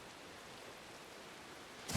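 Heavy rain in a video game pours as a steady, even hiss of dense droplets, continuous and fairly soft throughout with no other sounds.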